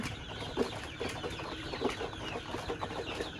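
Egyptian Fayoumi chickens on a poultry farm give scattered soft clucks at a moderate distance, quiet and intermittent over a low background hum.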